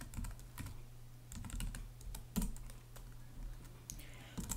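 Keystrokes on a computer keyboard while entering a password on an Ubuntu server, scattered clicks in short bursts with pauses over a low steady hum, no voices.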